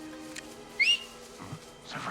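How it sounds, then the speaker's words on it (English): A game character in a stealth video game gives a short rising two-note whistle, brief and fairly quiet over faint background ambience, followed by soft game sounds. "Maybe I'll whistle."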